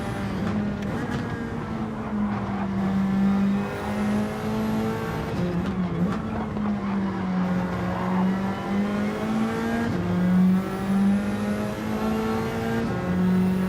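Race cars in Gran Turismo driving close behind and alongside, a steady loud engine drone rising and falling through gear changes, continuous and near, with no voices.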